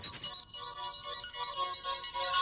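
A mobile phone ringtone plays close and clear, with a bright repeating electronic melody pulsing in a quick steady rhythm and no voices over it.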